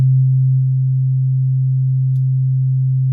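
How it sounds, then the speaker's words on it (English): A steady, loud 131 Hz sine tone holds alone and unbroken for about three seconds, swelling slightly at the very start before settling to a constant level, with no other sound around it. "Here is a tone at 131 hertz."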